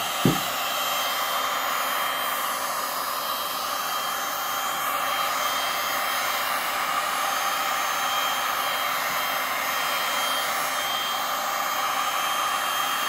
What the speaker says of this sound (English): turn your volume down if you do not want to listen to the heat gun, because it's going on